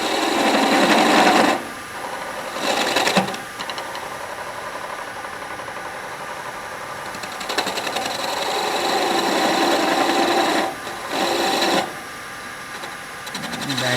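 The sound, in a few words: wood lathe cutting and beveling a honey dipper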